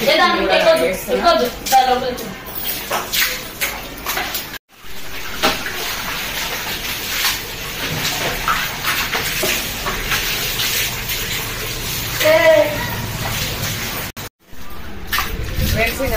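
Water from a tap splashes and gushes as vegetables are rinsed by hand, an uneven running stream with bursts and pauses, while someone talks over it.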